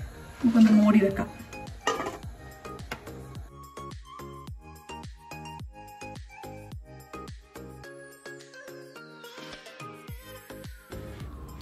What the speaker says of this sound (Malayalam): മൂടി വെക്കാം.